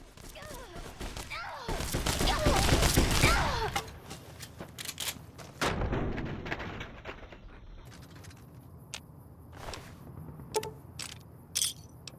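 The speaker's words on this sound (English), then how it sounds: "Right shotgun and Tesla cannon. That would have done some serious damage." Shotgun and Tesla cannon fire in a video game, a loud sustained volley of blasts with heavy crackling, then another thudding burst and scattered smaller shots and mechanical clicks as things quiet down.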